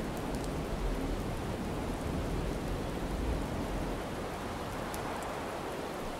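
Steady rain in a video game pours continuously, a dense even hiss with no voices and no pauses.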